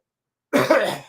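A strong cough or sniffle brought on by allergies, a single harsh throat-clearing burst starting midway and tailing off, close and loud after silence.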